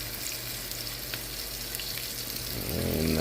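Morel mushrooms frying in a pan, giving a steady, quiet sizzle and crackle close by, with a brief clatter near the end and no speech.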